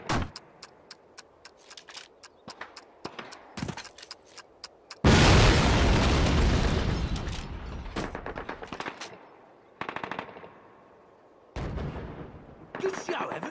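A flak gun is blown up in the Call of Duty campaign: a loud, sustained explosion roars and rumbles for several seconds after a run of sharp gunfire pops, then more shots and blasts follow.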